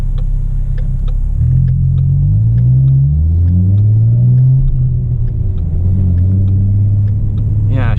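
A 2017 Ford Mustang with an MT-82 manual gearbox and short-throw shifter, driving with a loud deep engine rumble that rises and falls through gear changes, light clicks from the shifter over it.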